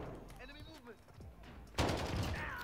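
Light machine gun fire in Call of Duty: Modern Warfare, a sudden loud burst of rapid automatic shots near the end, after a quieter stretch with faint game noise and a voice.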